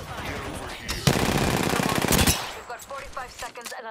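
Gunfire in the game Apex Legends, a rapid burst of automatic shots lasting over a second, loud and dense, with a game voice talking before and after the volley.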